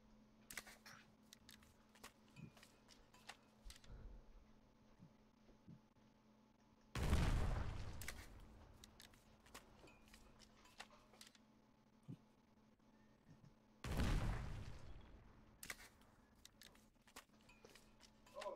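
Gunfire from the online war game Foxhole, two heavy blasts a few seconds apart rising above a quiet field ambience scattered with faint distant pops and clicks.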